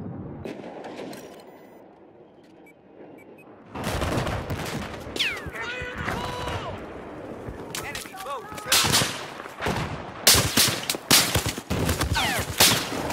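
Heavy multiplayer gunfire in Battlefield 4 on a Naval Strike island map, a quiet opening followed by loud, dense bursts and sharp near shots, with a few muffled words spoken.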